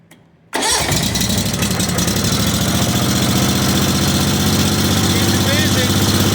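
Kawasaki 25 hp engine, started with a little choke after a no-start and backfiring problem, cranks briefly and catches, then settles into a loud, steady, close idle.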